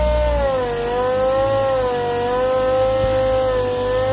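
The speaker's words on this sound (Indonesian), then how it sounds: "Penggunaan mesin amplas pneumatik seperti ini itu jauh lebih bagus dibandingkan Anda menggunakan amplas tangan ya" A pneumatic air sander works over a car body with 400-grit paper during preparation for epoxy primer and repaint, giving a steady loud whining hum that wavers slightly in pitch and runs on alone without any voices.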